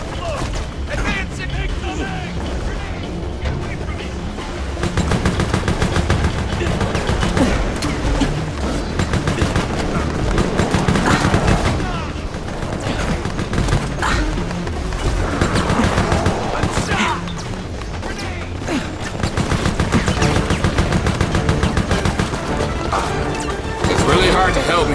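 Gunfire in the video game Resident Evil: Operation Raccoon City, dense continuous volleys and impacts, loud throughout, with voices talking over the shooting.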